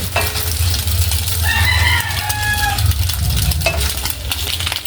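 A spatula stirs rice in a hot, sizzling frying pan as fried rice is made, with close scraping and steady frying crackle over a low background hum.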